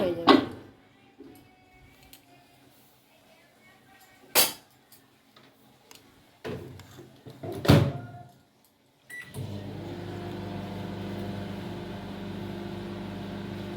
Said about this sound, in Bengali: এই যে বন্ধুরা মাইক্রোওভেনে দিয়ে দিলাম